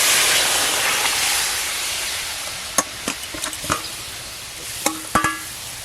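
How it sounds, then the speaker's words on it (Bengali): Moong dal goes into a hot pan of fried ridge gourd and cucumber with a steady, close sizzling hiss. Sharp clicks and scrapes of a spoon stirring against the pan follow, spaced irregularly near the end. "এবার ডালটা দিয়ে দেবো।"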